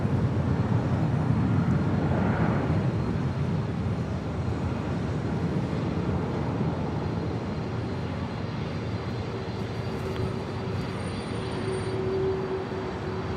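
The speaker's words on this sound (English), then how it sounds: "Here we have a Delta 767-400 ER coming in from JFK Flight 482." A Delta Boeing 767-400ER airliner arriving at LAX, its engines a steady broad roar that holds loud and even for the whole stretch, with no talk over it.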